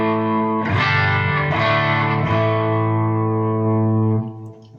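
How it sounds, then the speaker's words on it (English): An electric guitar played through a Boss Katana 100-watt floor amp with the Blues Driver off rings out in sustained chords, with a few fresh strums before the final chord decays. It is loud, harmonically rich and alone, with no talk. "I'll let you hear it with the blues driver off"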